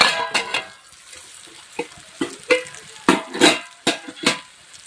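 Green chillies for a lemon-chilli pickle cook in a covered pan over low heat, with a soft background sizzle broken by irregular bursts of sputtering and clattering, close by.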